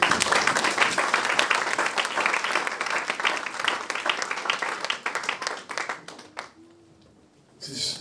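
A church congregation applauds the Lord with loud, dense clapping mixed with voices and cheers, gradually thinning out before a brief final burst.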